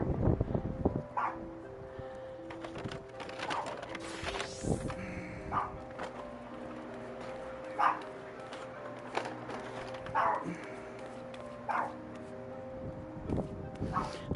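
Dog yips and whimpers come in short, spaced bursts, close by, over a steady electronic music bed and occasional footsteps, with no one speaking.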